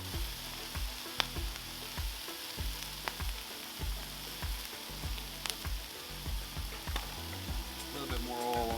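Onions, peas and carrots sizzle steadily on a hot Blackstone 36-inch griddle, a dense continuous fry with soft periodic scraping and stirring pulses throughout, close and fairly quiet.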